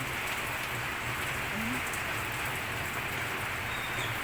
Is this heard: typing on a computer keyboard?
no